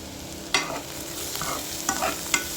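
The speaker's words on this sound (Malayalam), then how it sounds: "നമ്മുടെ പാവയ്ക്ക് ഇങ്ങനെ ഫ്രൈ ആയിക്കൊണ്ടിരിക്കുകയാണ്" Slices of bitter gourd fry in hot oil with a constant sizzle, broken by a few sharp scrapes and clacks as a utensil stirs them around the pan.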